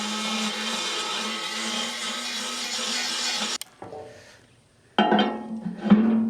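A small grinder fitted with a carbide burr bit grinds an excavator quick-attach pin, a steady high whine for several seconds, a sharp cut-off and brief quiet, then another shorter grinding burst.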